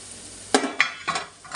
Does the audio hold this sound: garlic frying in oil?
yes